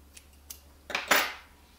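Scissors snip crochet yarn with a couple of faint light clicks, then two closer, sharper cuts in quick succession, heard alone against quiet room hum.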